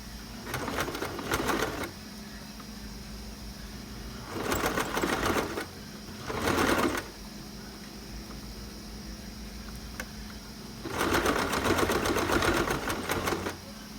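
A sewing machine stitches a sport collar in four separate runs of rapid, buzzing needle strokes, each lasting one to three seconds, with quiet pauses between them.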